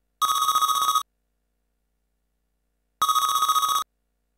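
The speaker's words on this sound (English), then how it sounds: "Press the phone, answer the phone, press the phone." Telephone ringing in Intellivision Lives!, a bright electronic bell trill in two separate bursts under a second each, about three seconds apart, with silence between them.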